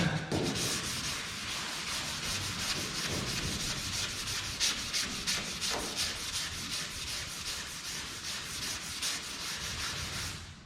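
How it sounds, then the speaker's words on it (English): Hand sanding with sandpaper along the body edges of a Biscayne car: quick repeated rasping strokes, close and steady, with no talking. "Now I'm gonna grab a piece of sandpaper and just hit these edges."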